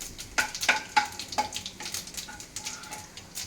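Cinnamon stick and cloves with cumin sizzle in hot oil in a pan, a series of sharp crackling pops and spits over a soft hiss, with the bursts thinning out toward the end.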